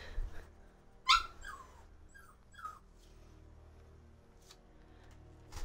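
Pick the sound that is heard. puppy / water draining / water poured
puppy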